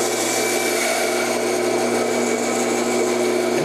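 A power saw rough-cuts a wooden dragster car body, a steady close grinding whine running without pause for the whole few seconds, loud and alone with no talking.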